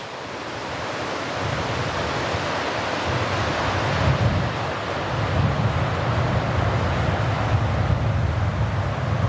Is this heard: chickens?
no